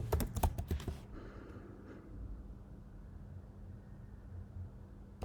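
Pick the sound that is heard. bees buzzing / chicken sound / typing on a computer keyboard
typing on a computer keyboard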